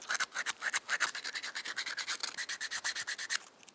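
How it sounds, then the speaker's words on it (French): Sanding a slotted plastic tube: a steady run of about two dozen quick, rhythmic rasping strokes, close and fairly quiet, ending with a brief pause and no voices. "Maintenant que tu as fait ce trou dans le plastique, tu peux poncer."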